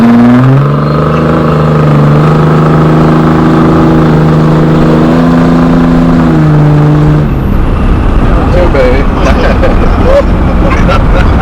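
A car launches hard from a staged drag start, its engine note climbing steadily in pitch for several seconds before breaking into a loud, rough roar as it pulls away, with voices talking over it.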